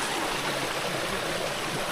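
Mountain stream water flowing steadily on Netravati Peak during the monsoon, a continuous broadband rush heard close and alone with no talking.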